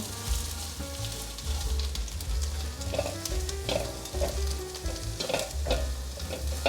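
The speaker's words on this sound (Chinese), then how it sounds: "稍微把雪白菇炒软。" Carrots and snow white mushrooms stir-fry in oil in a wok, a continuous sizzle punctuated by repeated scraping and clattering of the spatula as the vegetables are tossed.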